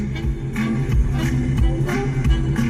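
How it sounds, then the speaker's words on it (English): Song with heavy, thumping bass playing on the stereo inside a 2010 Chevrolet Camaro, deep rhythmic low-end pulses filling the quiet cabin at a steady, fairly loud level. "this is actually a good song. There's a lot in this. There's a lot of bass."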